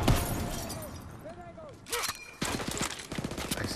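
Gunfire and sharp impacts in the Call of Duty WW2 Death Valley map, with a few scattered cracks early, then bursts of rapid shots toward the end mixed with other game effects.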